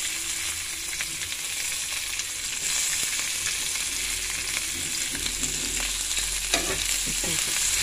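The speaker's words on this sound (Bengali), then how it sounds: "ফোড়নে পেঁয়াজ দিয়ে দিলাম" Onions frying in hot oil with whole spices for a tempering, a loud continuous sizzle and crackle that builds slightly partway through, with light stirring scrapes toward the end and no voices.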